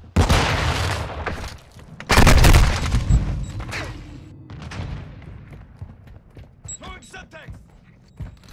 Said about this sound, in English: Throw a flash grenade.